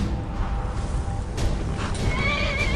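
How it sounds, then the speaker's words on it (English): Horse whinnying in the video game Skyrim, a high wavering neigh rising near the end over a dense bed of game ambience and rumble, with a hint of hoof clip-clop. "Get off the horse, get off the horse."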